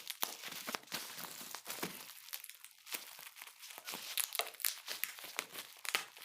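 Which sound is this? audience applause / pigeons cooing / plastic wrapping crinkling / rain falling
plastic wrapping crinkling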